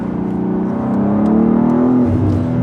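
BMW M2 G87 pulls hard in second gear, engine note climbing steadily in pitch as it revs up, loud and close with a faint whoosh on top.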